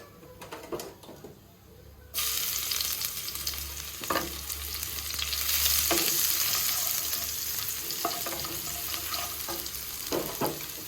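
Crushed garlic and chopped onion hit hot oil in a pan and start a steady, loud sizzle that continues throughout, with a few scrapes of a spatula; the start is quieter before the sizzle begins.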